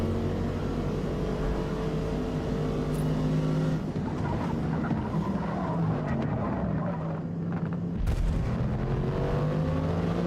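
A race car engine revs in the Forza Motorsport 2023 video game, climbing and falling in pitch through gear changes, steady and moderately loud with a brief cut near the end.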